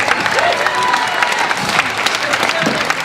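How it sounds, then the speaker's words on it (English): Crowd applause for the live musicians at a clog and Morris dancing show, with scattered cheers and voices mixed into a short, moderately loud burst of clapping. "can I have a huge round of applause for our musicians?"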